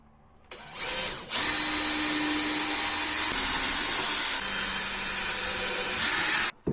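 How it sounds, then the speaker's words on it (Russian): A small power drill with a 2 mm bit whines at high pitch drilling through-holes in a board, starting with a short burst, then running steadily for several seconds before stopping abruptly. "Сделаю сейчас сквозные отверстия сверлышком двоечкой."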